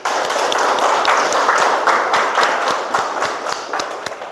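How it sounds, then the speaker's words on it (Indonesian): A school class claps hands together in a lively, close burst of quick, uneven claps that stays strong and then gradually thins out toward the end, with no talk over it. "Tepuk tangan untuk hari ini."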